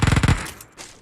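Video-game gunfire: a short, loud burst of about six rapid automatic shots fires up close, then fades into a brief quiet tail.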